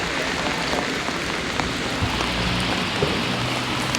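Heavy December rain pouring on a street walk in Beeston, Nottinghamshire, a dense, constant hiss of drops hitting surfaces close by, steady and loud throughout.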